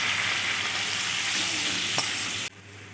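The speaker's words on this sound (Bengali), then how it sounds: "গোটা কয়েকটা কাঁচা লঙ্কা দিয়ে আমি আরেকটু ভালোভাবে নেড়ে চেড়ে অল্প একটু জল অ্যাড করে দেব।" Masala with chopped tomatoes and green chilies sizzles loudly in a pan as it is stirred, a continuous close frying hiss with a faint scrape, then the noise drops abruptly near the end.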